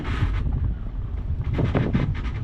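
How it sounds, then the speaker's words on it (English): Steady wind roars and buffets across the microphone aboard a sailboat making about four knots, a continuous close rumble with gusty swells and no talk. "I don't know if you can feel that wind on your face"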